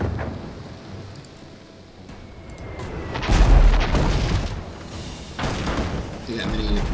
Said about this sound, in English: They got many mortars.